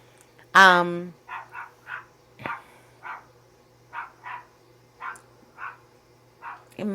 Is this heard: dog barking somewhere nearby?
yes